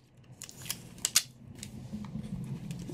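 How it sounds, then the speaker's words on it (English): Packing tape is pulled and pressed down to seal a shipping box for a small hair care business order, giving a few short sharp ripping bursts followed by softer rubbing, close and fairly quiet. "And then I will tape it"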